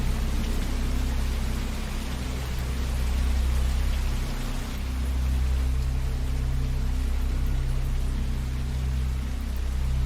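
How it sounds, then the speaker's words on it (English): Steady rain sounds play continuously during a soft-spoken livestream, a dense even hiss of falling rain with a low rumbling bed and no talking over it. "I can turn down the rain sounds"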